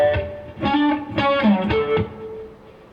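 Electric guitar plays the intro sections with hybrid picking: a run of plucked notes and ringing harmonics in quick succession, clear and moderately loud with no talking.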